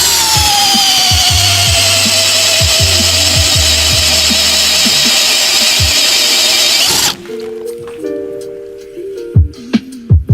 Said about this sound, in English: The timberjack mortise cutter requires a very powerful drill.